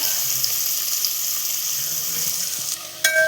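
Chopped onion fries hard in a pan over a high gas flame, giving a loud, steady sizzle that runs throughout and ends with a brief clatter.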